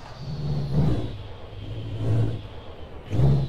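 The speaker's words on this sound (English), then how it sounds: "all these, these engine sounds did come with the truck" A Peterbilt 389 truck engine in American Truck Simulator gives three rising and falling revving swells, a deep rumble heard close up with no talking.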